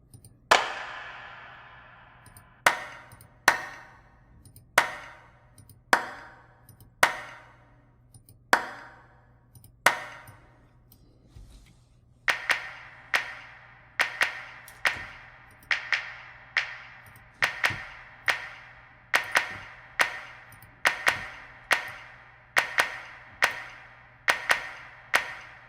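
Isolated clap samples, auditioned one after another while mixing a Motown song, crack sharply in a steady rhythm, each with a short decaying tail. The sequence is a slower set followed by a quicker run of similar claps over a faint low hum.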